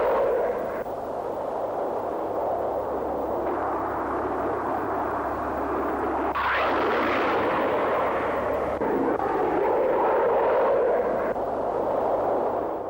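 SEPECAT Jaguar fighter jet flying low, a loud continuous roar that swells and sweeps in pitch as it passes close overhead, steady engine noise filling the whole stretch.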